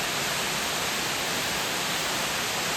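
Stony Creek Falls, a waterfall viewed from an overlook above the creek, gives a steady, dense broadband roar that stays constant and fills the whole moment without any voices.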